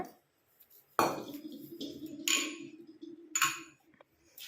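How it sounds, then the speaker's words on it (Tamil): Roasted powder being tipped from one bowl into another, with a few sharp scraping clinks of metal on metal and a soft rustling pour, heard close up with no voices. "இன்னொரு பவுலில் நம்ம ட்ரான்ஸ்ஃபர் பண்ணிக்கலாம்."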